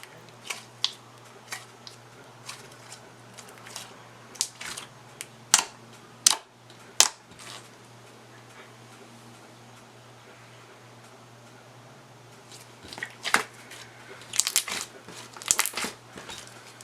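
Thick, cherry-scented slime is squished and handled up close, giving scattered sticky pops and crackles over a quiet background, with bursts clustered near the end.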